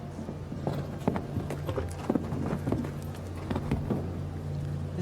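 Horse hooves clip-clop in a steady, moderately close rhythm across a show jumping arena at a Longines Global Champions Tour Grand Prix jump-off in Miami Beach, with a faint low hum and crowd ambience underneath.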